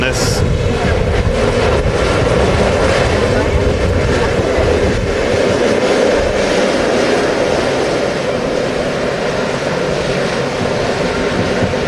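An Airbus A380 airliner at Manchester Airport, heard from the runway-side viewing park as a loud, sustained broadband engine roar that holds steady and close, with a voice speaking over it.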